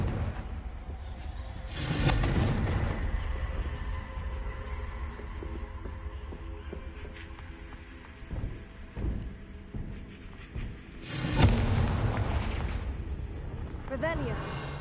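Confringo blasting spell explosions in the Hogwarts Legacy video game: two loud booming blasts about ten seconds apart, each with a rumbling tail, over quieter game ambience and scattered impacts.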